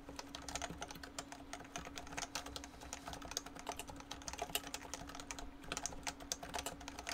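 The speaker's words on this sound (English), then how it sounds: "Soft typing." Soft typing on a computer keyboard fitted with Heavy 6 switches, a steady run of quiet, closely spaced keystrokes with a faint constant hum underneath and no voices.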